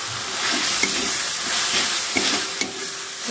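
Chopped tomatoes fry in a pan for a corn curry, giving a steady broadband sizzle with a few soft clicks of stirring, close and fairly loud, with no talking.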